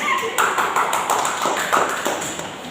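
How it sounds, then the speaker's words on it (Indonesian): Children in a primary classroom clap their hands in a quick, rhythmic run of light claps, fairly close, with some voices mixed in. "Tepuk tangan."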